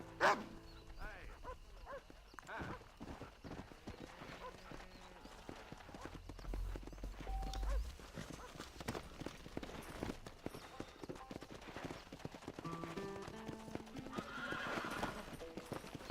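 In Red Dead Redemption, a horse clip-clops and neighs and whinnies at several points, over game music and ambience, with a dog barking in places and some voices.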